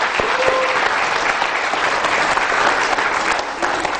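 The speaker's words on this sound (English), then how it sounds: "So please give them all a round of applause for helping out today." Lecture-hall audience at a school chemistry show claps steadily and loudly for the helpers, a dense even patter lasting the whole stretch without speech.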